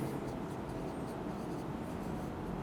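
Steady scratching of writing out a matrix on a surface, continuous and fairly close throughout with no pauses.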